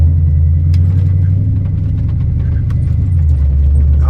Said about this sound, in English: And it downshifts into first right there, going up this hill.